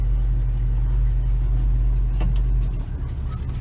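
Engine of a lifted 1977 Chevrolet K20 4x4 truck heard from inside the cab, a steady low rumble at idle that drops slightly near the end.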